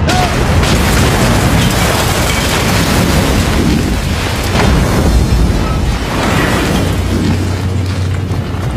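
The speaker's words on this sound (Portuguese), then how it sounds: "É uma bomba!" A bomb explodes in a dubbed action film, a loud, sustained roaring blast with deep rumbling and crackling debris that fills the whole stretch without letting up.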